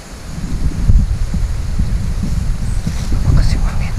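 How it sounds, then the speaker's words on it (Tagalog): Strong wind buffets an outdoor microphone in a steady low rumble with gusts peaking near one second and again around three and a half seconds; a voice speaks faintly underneath. "Lakas yung hangin."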